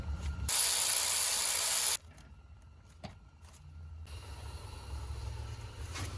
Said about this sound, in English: Now we'll put the little nut. And that's a 12 millimeter. Tighten it up.